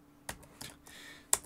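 Keystrokes on a computer keyboard while coding in Adobe Animate, four separate clicks spread over a second and a half, the last one sharper and louder, against a quiet room.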